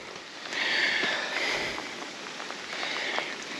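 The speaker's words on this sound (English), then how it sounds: "It's raining a little bit too." Light rain falling outdoors at a low-tide shoreline, a soft continuous hiss with faint scattered drop patter, fairly quiet and steady, with some brief breathy noises mixed in.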